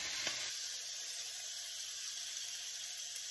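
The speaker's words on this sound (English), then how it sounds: "Now we're getting ready to cook the shrimp, okay?" Shrimp dropping into a hot pan with butter, giving a steady faint sizzle with a brief splash at the start, continuous and quiet with no talking.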